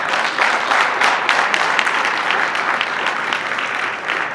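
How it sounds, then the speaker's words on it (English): Fraternity brothers at a chapter conference applaud themselves in a loud, dense, sustained round of clapping that fills the room steadily without a break. "Give a round of applause for yourselves already."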